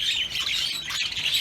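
Many birds in a loft, likely pigeons kept for sale, squawking and chirping in a dense, continuous chorus, moderately loud with no talk.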